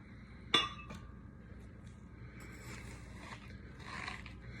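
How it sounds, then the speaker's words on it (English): A watermelon ball drops into a glass blender jar with one sharp clink, followed by a fainter second tap and soft kitchen handling noises in a quiet room. "I'm gonna put each one that I cut out in the blender."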